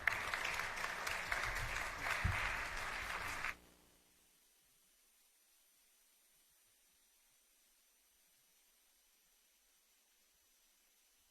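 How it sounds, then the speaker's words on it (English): Audience applause at a church fundraiser concert, brisk clapping for about three seconds that stops abruptly, followed by near silence with faint background hiss. "Please join me in a round of applause to appreciate our sponsors"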